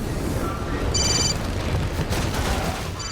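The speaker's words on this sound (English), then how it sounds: "Pull over and answer your phone." A cell phone rings inside the zombie game Dead Rising 3, its brief electronic trill of stacked tones sounding twice over steady gunfire and game noise.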